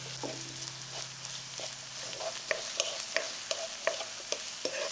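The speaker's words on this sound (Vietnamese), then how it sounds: "Tiếp đó mình cho hành tây vào xào thơm." Onions stir-fry in oil in a pan, a soft steady sizzle broken by repeated scraping stirs from a spatula, close and alone.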